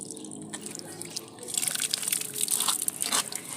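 Water poured from a bottle splashes onto bare soil in a model of a treeless, deforested mountain, with faint trickling that swells into a steadier, louder patter of drips and gushing after the first second and a half.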